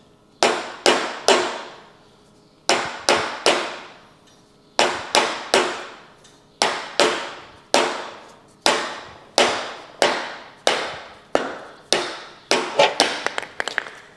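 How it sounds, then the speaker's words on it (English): A hammer lightly taps around a trailer bearing buddy to work it loose, giving sharp metallic knocks close by, some in quick pairs and groups, with short pauses between and no talking. "The first thing we need to do is tap this bearing buddy off, and the way I do that is I just go around it very lightly"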